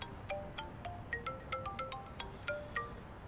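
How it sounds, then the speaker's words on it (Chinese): A mobile phone rings for an incoming call, a quiet melodic ringtone of short repeated electronic chimes in a steady rhythm, faint and alone without speech. "有人打了苗飞另外一部电话，我们现在不能监听了。"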